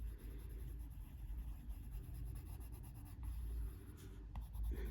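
A white coloured pencil scratches steadily across paper while colouring in a page, a soft continuous rubbing close up over a low background hum.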